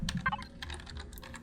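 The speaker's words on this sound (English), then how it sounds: "Sorry if the keyboard's a bit clanky today." Clanky computer keyboard typing, a run of close, uneven, clattering keystrokes at fairly low volume with no talking over it.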